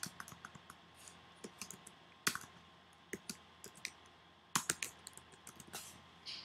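Keys clack in irregular bursts on a computer keyboard, close and fairly quiet, with short pauses between runs of typing and no voices.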